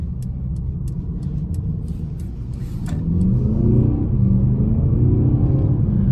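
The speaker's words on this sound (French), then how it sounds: "Alors c'est un diesel, mais elle a quand même beaucoup de reprises. C'est vraiment très agréable pour un diesel." A 2019 Mercedes CLA 220d AMG Line diesel car accelerating, a steady low engine rumble that grows louder and fuller halfway through, heard alone without talk.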